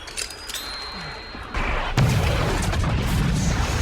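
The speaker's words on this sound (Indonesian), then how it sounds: "Guzman lalu memilih untuk mencabut granat miliknya. Dan boom, ledakan besar pun terjadi." A grenade blast in the zombie film Army of the Dead erupts as a loud, dense burst of noise that swells and stays roaring until a sudden cutoff, after a quieter tense lead-in.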